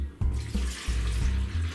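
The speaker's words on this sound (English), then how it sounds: "Lemon and lime juice goes first," Lemon and lime juice pours into a drink glass in a short, steady trickle with a few brief splashy surges, close and fairly loud, no voices.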